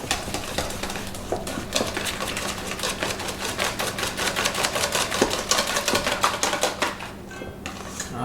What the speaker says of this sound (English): So now I'm going to use the whisk to make it more homogeneous.